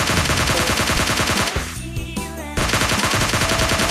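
Rapid automatic gunfire from a weapon in the mobile battle-royale game PUBG Mobile Lite, loud and close, in dense sustained bursts that pause briefly midway and then resume.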